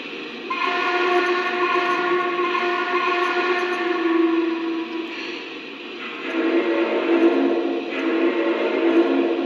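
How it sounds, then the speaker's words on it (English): A steady, sustained model train steam whistle, a Lionel Pennsylvania Mountain M1A/M1B whistle, with a rich chord of tones, loud and close, dipping briefly and then sounding again. "Mountain or M1A, M1B whistle that's also in here."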